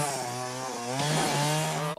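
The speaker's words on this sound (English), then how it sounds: "No matter how badass you handle a chainsaw." A chainsaw roars in a scene from the horror film The Texas Chainsaw Massacre 2, one loud continuous buzzing burst whose pitch rises as the engine revs, cutting off abruptly at the end.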